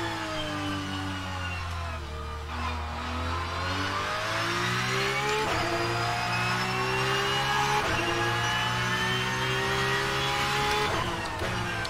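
Porsche 992 GT3 Cup racing in rFactor 2, its engine droning loudly and steadily with pitch rising through the gears and a few shift drops, faint tyre noise underneath, no voices.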